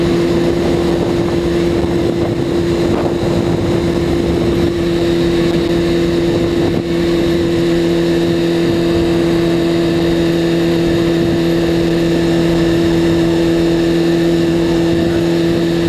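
A car rolls steadily along on a set of new tires, a continuous engine drone and road hum holding at an even, close level for the whole stretch with no talking.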